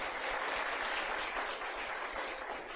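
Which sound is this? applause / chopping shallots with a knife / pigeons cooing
applause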